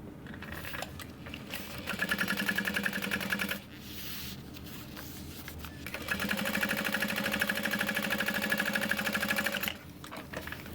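A sewing machine top stitches a pocket on a Wade backpack, running in two steady, close buzzing bursts separated by a short pause, with quieter handling noise between them.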